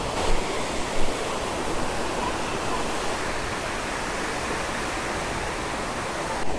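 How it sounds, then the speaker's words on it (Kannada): The Magajahalli Abbi waterfall beside a main road near Sakleshpura rushes as a steady, dense broadband roar, close and constant, with no voices. "ಮೇನ್ ರೋಡಲ್ಲೇ ಇದೆ ಫಾಲ್ಸು."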